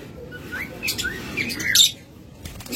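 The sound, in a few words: pair of violet Fischer's lovebirds chirping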